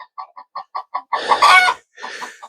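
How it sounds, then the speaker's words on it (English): Hens in a chicken pen cluck in a quick series of short, close calls, then one bird breaks into a loud, louder squawking burst before softer clucks resume; no talking. "Black hen's in the nesting box over on the turkey side."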